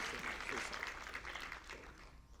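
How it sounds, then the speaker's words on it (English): An audience at a Black Youth Can Mixer Emancipation Month closing event claps in steady, moderately dense applause, heard from a distance with a faint voice underneath. "So round of applause for Don Stewart."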